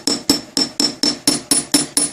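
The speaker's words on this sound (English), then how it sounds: "And all I'm doing is hammering it." A hammer strikes a beaded wire earring against a steel bench block, eight sharp metallic taps in a steady, even rhythm, close and loud with no talking.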